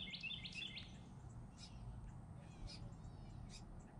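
Several short bird chirps and calls sound faintly over a steady low rumble of background noise, scattered across a few seconds.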